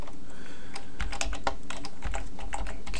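Keys clatter on a computer keyboard in a fast, close run of distinct strokes over a constant background hum, with no one speaking.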